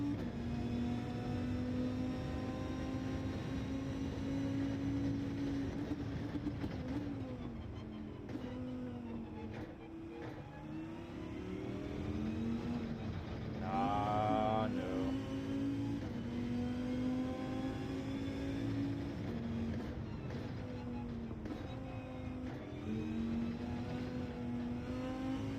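A Dodge Viper's engine drones and revs in Gran Turismo 7, a steady loud tone climbing and falling through gear changes, with a brief higher whine in the middle and no talking over it.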